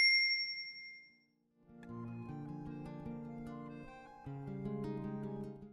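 A bright notification ding rings out once and decays, then a gentle, melodic chime-like jingle plays in layered tones for several seconds, clear and alone.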